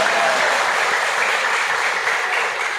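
Steady, dense applause fills a church youth revival service, a continuous wash of many hands clapping at even loudness throughout, with no voices standing out.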